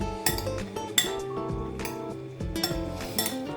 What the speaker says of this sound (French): On remue.